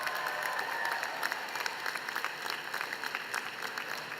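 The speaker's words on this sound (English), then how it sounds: "join me once again, giving the faculty a big round of applause" Audience applause for the faculty at a Miami Dade College Kendall commencement ceremony in 2017, a sustained, fairly quiet patter of many hands heard from a distance in a large hall, with no talk over it.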